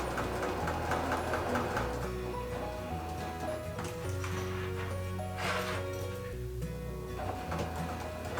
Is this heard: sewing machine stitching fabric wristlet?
yes